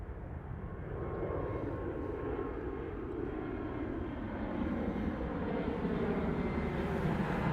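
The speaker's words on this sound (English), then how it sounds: "There's the A330 right there." Airliner jet engines at Toronto Pearson airport produce a steady, distant low roar that slowly swells louder over several seconds, with no speech.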